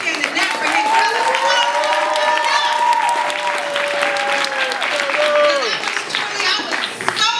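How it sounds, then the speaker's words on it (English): Audience at a speaking event applauds steadily and loudly for several seconds, with cheering voices rising over the clapping before it tapers near the end. "Let me get a round of applause for Hidden Colors."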